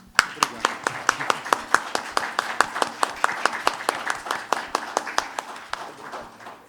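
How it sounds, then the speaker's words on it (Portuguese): Applause welcomes Edmilson Caminha at a literary evening, sounding as a small audience clapping in sharp, fairly regular beats, distinct individual claps close to the microphone rather than a dense wash. "Eu queria pedir a todos aplausos de boas-vindas a Edmilson Caminha."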